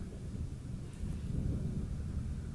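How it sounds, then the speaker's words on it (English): A thunderstorm rumbles directly overhead, a low, continuous roll of distant-sounding thunder swelling slightly midway, with a faint hiss of rain or wind and no voices. "I think we just had a thunderstorm hit overhead."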